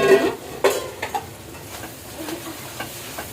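Maggi noodles tipped into a pan of sizzling liquid for a beef curry meal, followed by a few scraping stirs of a utensil against the pan, close and moderately loud.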